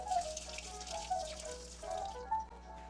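A cut onion is rinsed under a running kitchen tap, with a soft, steady stream of water splashing gently and quietly throughout.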